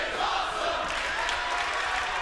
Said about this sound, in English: listen to the crowd showing their appreciation